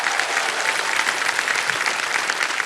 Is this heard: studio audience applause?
yes